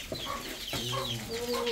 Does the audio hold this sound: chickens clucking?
yes